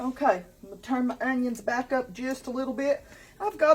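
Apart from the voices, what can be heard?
No distinct noise like a dog, phone or traffic.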